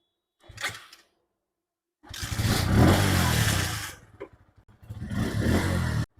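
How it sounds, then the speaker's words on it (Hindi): Bajaj Pulsar motorcycle kick-started with a dead battery: a short kick, then the engine catches and runs roughly for a couple of seconds, dips, and fires up again, close by. "लेकिन मैं इसको स्टार्ट कर दूंगा किक से, क्योंकि किक स्टार्ट आपको दोनों में देखने को मिलेगा"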